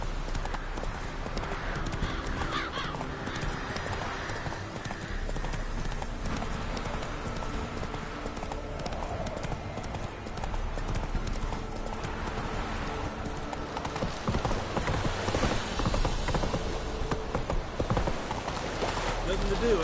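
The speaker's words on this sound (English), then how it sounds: "Come on, Roach" Horse hooves clip-clop steadily on the ground in the Witcher 3 video game, a continuous walking rhythm heard up close with game ambience and speech-like sounds mixed throughout.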